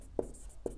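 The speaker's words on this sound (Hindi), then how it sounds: "चलिए इसके लिखते हैं" Two short, distinct strokes of chalk or pen writing land roughly half a second apart, close and fairly crisp during a lesson on magnets.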